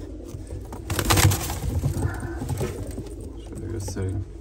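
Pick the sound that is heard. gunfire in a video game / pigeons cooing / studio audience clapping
pigeons cooing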